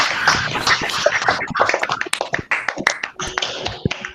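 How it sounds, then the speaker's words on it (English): Students and families at a class 6 academic awards ceremony clapping for the winners, a loose, uneven patter of distinct claps from a modest group, close and fairly sharp, thinning out toward the end. "Can we have a big round of applause for all the winners across the sections?"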